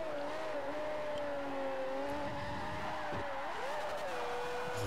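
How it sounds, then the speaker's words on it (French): Ferrari Formula 1 engine in a car in Forza Motorsport 4, racing game, revving high with a steady whining tone that shifts pitch, tires briefly squealing, continuous and loud. "on a un moteur de Formule 1 Ferrari dans ses voitures et ça s'entend"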